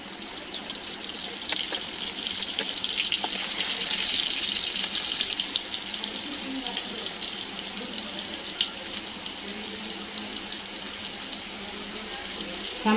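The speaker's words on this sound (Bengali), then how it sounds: "সামান্য একটু জল দিয়ে দিলাম, গরম জল।" Hot water poured in a small amount into a cooking pot in a home kitchen, a steady close splashing stream with faint trickling throughout.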